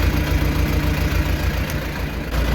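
An old-school diesel engine idles steadily with a low, throbbing rumble, close and continuous with no talk over it.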